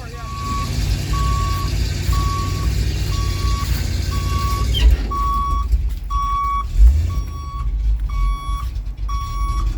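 A tow truck with a gas 454 engine reverses with a loud, evenly spaced backup beeper repeating about a dozen times over a low, rumbling idle. The engine swells briefly partway through, and there is no talk.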